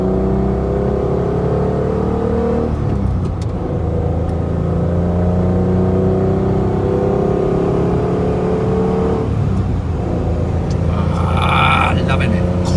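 Engine of a 1972 Citroen SM driving, a loud steady hum with rising and falling gear tones as it accelerates and shifts, heard from inside the car.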